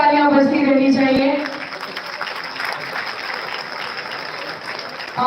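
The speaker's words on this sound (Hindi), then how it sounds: "आपकी जोरदार तालियां बजती रहनी चाहिए।" Loud applause from an audience at a Hindi-language public gathering on One Nation One Election, a dense steady wash of clapping that carries on after a brief spoken voice at the start.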